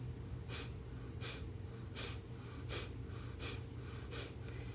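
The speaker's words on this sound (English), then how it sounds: "As we contract it, we're breathing, the breath will come out of our nose." Forceful breaths out through the nose during a breathing exercise for swimmers, seven sharp rhythmic huffs at even intervals, close and moderately loud with no talk.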